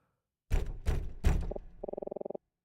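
Three heavy knocks thud against a stuck door in a video game, followed by a rapid rattling buzz of the handle or latch, close and fairly loud with no voice.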